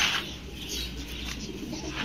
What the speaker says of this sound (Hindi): और ये चीना कबूतर है गाइस।